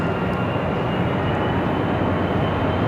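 An ATR turboprop airliner at Raleigh-Durham International Airport gives a loud, continuous broadband engine roar, steady and close throughout with no talking.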